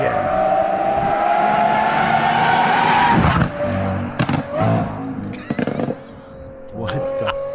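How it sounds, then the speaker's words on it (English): A Lamborghini car engine revs with a rising, sustained tone, then cuts to choppy bursts and pops against a noisy background, loud and close, with voices talking over parts of it. "Now, the sound of a Lambo."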